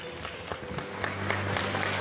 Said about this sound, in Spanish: Fuerte los aplausos para esta pequeña.